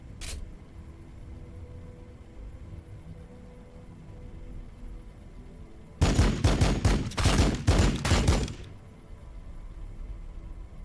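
Units fire in the Warhammer 40K: Battlesector video game. A single sharp report sounds early, then after a long lull comes a loud rapid burst of gunfire lasting a few seconds over a low ambient rumble.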